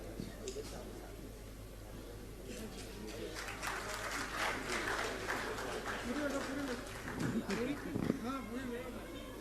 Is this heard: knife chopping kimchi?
no